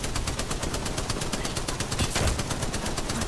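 Rapid sustained machine gun fire in the shooter game Apex Legends, a dense, loud stream of evenly spaced shots rattling without pause for over three seconds.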